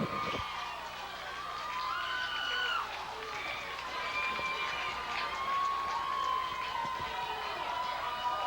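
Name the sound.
Viking band and crowd cheering at football game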